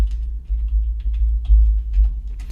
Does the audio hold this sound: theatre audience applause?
no